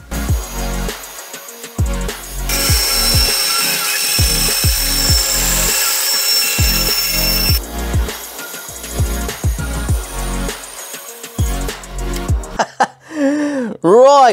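Bandsaw slicing through a woodturning blank of wood, glass and resin, a series of repeated harsh cutting bursts with pauses between, then a sustained grinding stretch, ending with a whining tone.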